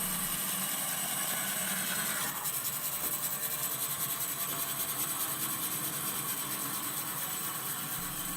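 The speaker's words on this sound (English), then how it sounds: "I've got the resaw blade on my bandsaw, and so I'm just going to try to cut a straight line here" A bandsaw fitted with a resaw blade cutting freehand along a line through wild-tree wood, a loud, steady rasping hiss that continues without a break.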